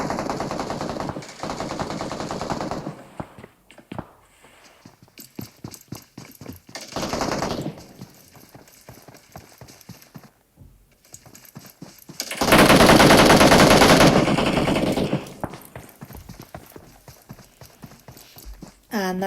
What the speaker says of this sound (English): We now have RPG firing towards Team 13.